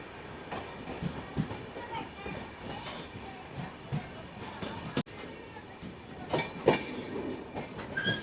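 A DMU train running through the hot Thar Desert, rhythmic clickety-clack of wheels on rail joints with occasional squeals and knocks, heard from on board with a voice talking intermittently.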